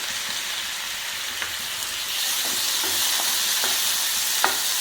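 Chopped tomatoes sauté in a hot pan for prawn paneer butter masala, giving a steady close sizzle with a few soft scraping stirs that grows slightly louder partway through.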